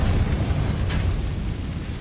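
A repair spell cast in a wizarding video game set at Hogwarts, rendered as a deep, rumbling magical burst that swells and holds as a low sustained boom, with a faint shimmering sparkle on top.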